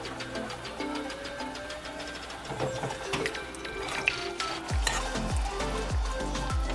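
Shrimp and scallops simmer in a creamy seafood sauce in a pan, giving a steady sizzle and bubble. Near the end a spoon stirs and scrapes in a few low, rhythmic strokes, close by, with no talking.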